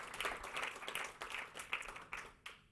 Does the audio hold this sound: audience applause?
yes